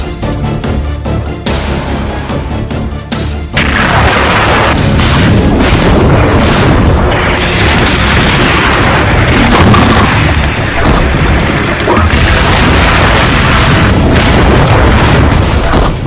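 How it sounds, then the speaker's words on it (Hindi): Missile strikes and artillery fire in Kharkiv, heavy booming blasts and rumbling detonations that swell into a loud, continuous roar of explosions with no voices. "मिसाइल धमाके से दहल रहे खार्किव में भीषण संग्राम छिड़ा है"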